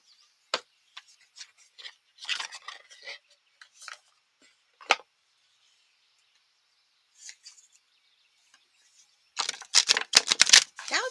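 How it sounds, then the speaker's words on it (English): Intermittent papery riffles and flicks of cards, scattered in short bursts with quiet gaps, ending in a louder rapid flurry of shuffling. "Now it's a nice sloppy shuffle job."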